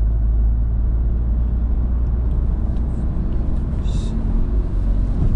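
Car driving on a 90 km/h road near an Evry driving test centre, its engine and road rumble a steady, loud low drone throughout, gaining slightly as it accelerates.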